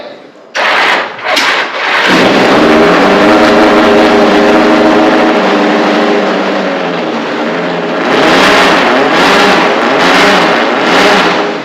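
Norton Nemesis motorcycle engine, very loud, starting with a few sharp bursts, then a sustained harsh roar that revs up again toward the end, close and alone.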